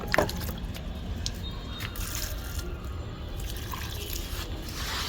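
Water poured onto a potted plant on a rooftop, a steady trickle and splash with scattered drips and wet squishing sounds throughout.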